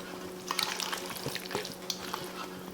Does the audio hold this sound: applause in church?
no